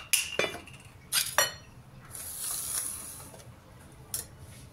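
A knife cuts through food against a board or plate in a home kitchen, giving a few sharp clinking chops early on, then a softer scraping stretch and one more tap, fairly close and with no talking.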